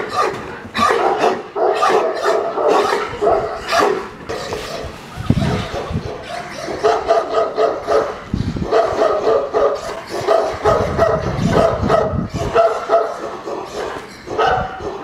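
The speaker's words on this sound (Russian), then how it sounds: "Это самые первые мои собаки." Alabai (Central Asian Shepherd) dogs out for a walk bark and yip repeatedly outdoors, loud and close, with overlapping rapid barks, higher yips and a few whimpers running continuously throughout.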